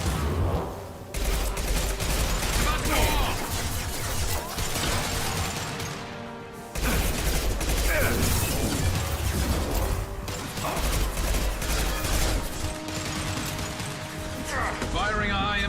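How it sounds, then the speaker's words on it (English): Dense, continuous gunfire and combat clatter in the Mass Effect 2 video game, heavy layered shots and mechanical noise filling the whole stretch with hardly any gaps. "Firing a high-impact shot."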